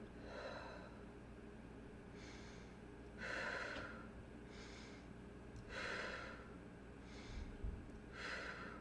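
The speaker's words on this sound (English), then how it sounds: "That's diaphragm breathing." Slow, deliberate diaphragm or belly breathing, shown with one hand on the chest and one on the belly. Airy inhales and exhales alternate at a calm pace, close to the microphone and soft, with no talking.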